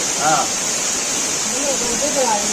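Steady broadband rush of the waterfall at Sri Amara Lingeshwara Swamy Kona near Tirupati, a constant close roar filling the whole clip, with brief voices talking faintly over it.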